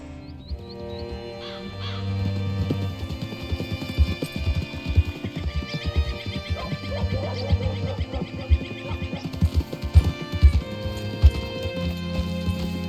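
Steady clip-clop of horse hooves trotting along in Red Dead Redemption 2, with game music and ambient tones underneath.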